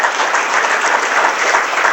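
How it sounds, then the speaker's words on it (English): Sustained applause from a studio audience at a Washington, D.C. broadcast honoring the Iowa and Missouri Farm Bureau presidents, a loud, even wash of clapping throughout with no talk. "Let's give them a big round of applause here."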